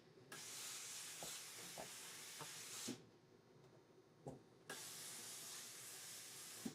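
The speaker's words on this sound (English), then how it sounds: "I'm going to press my seam the opposite direction" Steam iron hissing as it presses a seam on a cotton quilt block, two long steady bursts of spray separated by a quieter pause, with faint taps of the iron on the board; fairly close, no talking.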